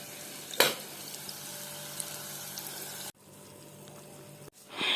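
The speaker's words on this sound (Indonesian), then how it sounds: "Kita lagi masak bawang merah, bawang putih, cabai, bawang bombay." Shallots, garlic, chili and onion frying in a pan, a steady broadband sizzle with a brief louder burst early on, interrupted by abrupt cuts and resuming.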